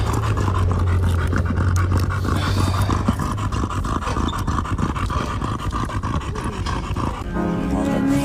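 A dog pants heavily and rhythmically up close, with some rough growly breaths mixed in and voices in the background.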